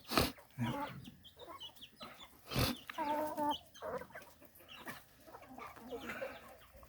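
Chickens in a coop cluck and squawk at close range in irregular bursts, with several sharp louder calls standing out above the softer clucking.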